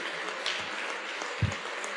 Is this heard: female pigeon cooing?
no